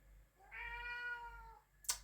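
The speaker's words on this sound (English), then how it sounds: "That's my kitty cat having a bit of a say." A house cat gives one drawn-out, tonal meow that rises and holds before fading, heard alone at close range and followed by a brief sharp noise.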